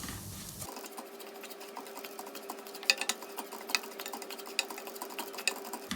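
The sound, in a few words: stirring rava while roasting in a pan on low flame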